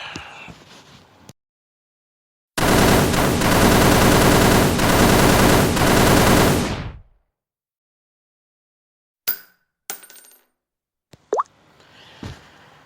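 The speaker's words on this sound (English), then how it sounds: "You heard the gunshots." A long, loud burst of rapid gunfire rattles for about four seconds, followed after silence by a few scattered sharp cracks and faint noises.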